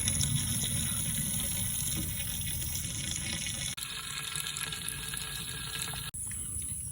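Diesel fuel drains from a Kubota tractor's fuel line through a tube into a five-gallon container, a steady close trickling gush that runs continuously, broken only by two brief clicks.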